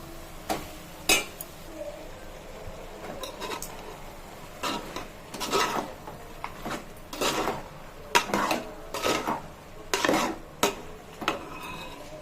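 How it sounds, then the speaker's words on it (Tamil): Potatoes and mutton stirred in a pan for a mutton kulambu, with spoon or spatula scraping and clinking against metal in irregular bursts, close and moderately loud, with no talk. "கொஞ்சம் வதங்கதும் கறியை போட்டு வதக்க வேண்டியதான்."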